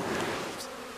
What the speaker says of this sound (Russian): И наши пчелы полетели.